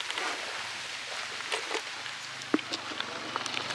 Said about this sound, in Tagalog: Timing rin na umuulan.